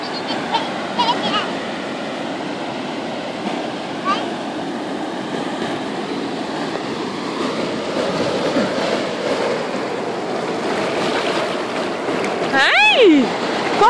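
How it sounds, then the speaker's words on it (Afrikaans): Water rushing in with a loud, continuous broadband roar and splashing, with a voice rising in pitch near the end. "Hier kom die water."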